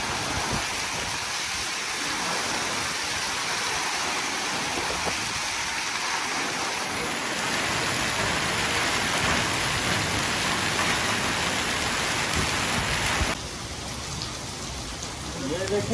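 Hail and heavy rain pelt down steadily during a storm in Multan, a dense, continuous broadband roar that swells louder midway and then eases slightly near the end, with no voices.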